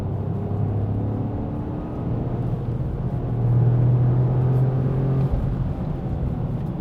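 Close, steady engine rumble from inside a Toyota GR Corolla hot hatch. The revs climb after a downshift into a louder sustained drone, then ease back, with no talk over it.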